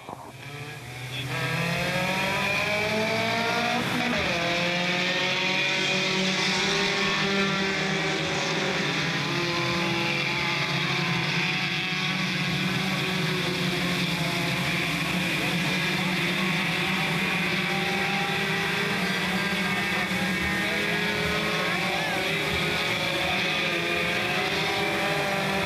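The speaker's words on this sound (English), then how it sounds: "7 more laps for the 32 of Travis Sands" Front-wheel-drive race cars circle Smoky Mountain Raceway, a sustained loud engine drone with rising and falling pitch as cars pass, continuous throughout.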